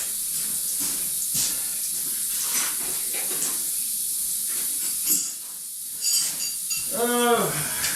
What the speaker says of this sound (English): Now if I break this valve loose here, I'll break the suction and it'll come right out.